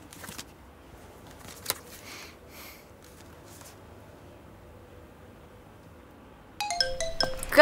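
A mobile phone ringtone starts near the end, a bright rising melodic pattern that grows louder over quiet train-station ambience with faint distant sounds.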